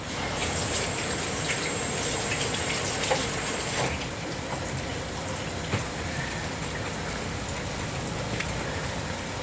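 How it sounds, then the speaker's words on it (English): Tap water gushing steadily into a kitchen sink during hand washing, a broad continuous rush at close range with a few faint knocks and splashes. "I'm going to wash my hands real quick"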